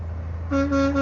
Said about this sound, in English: we're gonna try to get him to honk at us if he can